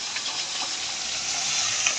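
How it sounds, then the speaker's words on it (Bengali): Spices such as bay leaf, ground coriander and turmeric frying in hot oil, giving a steady close hiss and crackle that holds evenly throughout without a break. "দেখতে পাচ্ছেন আমাদের রেসিপি তৈরি করার জন্য অলরেডি ভাজা হচ্ছে।"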